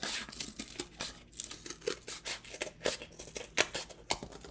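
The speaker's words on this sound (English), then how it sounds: "this thickness of cardboard works pretty well with my scissors" Scissors chomp through stiff cardboard in quick, rough snips and scraping crunches, close up and fairly quiet, with no voices.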